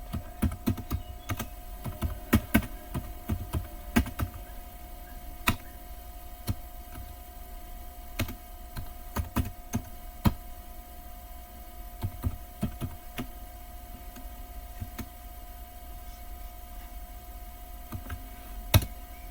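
Commands being typed on a computer keyboard into an Ubuntu Linux server terminal: quiet, irregular bursts of key clicks with short pauses between them, over a faint steady hum.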